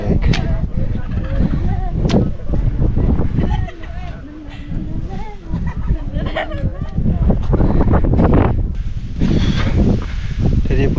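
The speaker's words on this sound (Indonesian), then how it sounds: "anginnya kencang, dingin banget" Strong, cold wind gusts buffet the microphone on a mountain summit, a rough, continuous roar with sharp bursts throughout, and voices are faintly heard underneath.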